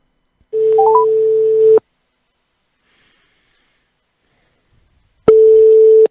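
A telephone line rings out to a restaurant in Arles: a few short beeps, then a long ring tone, several seconds of silence, and a second long ring tone, with no talking.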